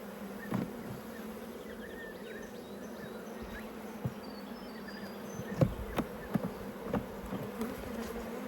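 Honey bees buzz steadily during an apiary hive inspection, a close, continuous drone with occasional sharper bumps and knocks from handling frames.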